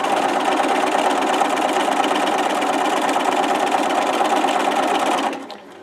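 A sewing machine runs steadily and loudly for over five seconds while stitching a pocket onto fabric, then stops abruptly near the end.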